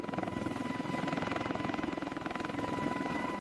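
Military helicopters circle a navy ship, a steady rhythmic rotor thumping with engine whine, constant and moderately distant, no voices.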